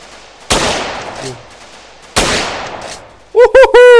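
Two loud, sharp gunshots, well spaced and each trailing off in a short echo, ring out in a modded GTA Miami Vibe game, followed by a brief burst of a voice.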